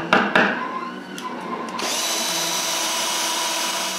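A power drill drives screws to fasten clips onto a wooden box for a small vacuum cyclone, a short burst and then a steady continuous whine, loud and close with no talking.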